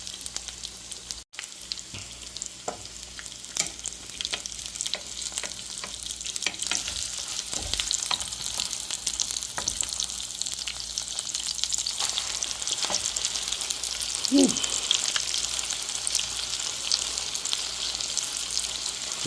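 Fried bake dough sizzling in a hot pan for a Trinidad-style dinner with fried egg and salt fish, a steady close-up crackle of oil with scattered pops and brief clinks of utensils, no one talking.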